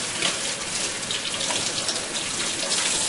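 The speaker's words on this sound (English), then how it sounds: "I'm going to rinse this cold water." Cold tap water pours steadily over raw chicken being rinsed in a sink, a close, continuous splashing gush with no voices.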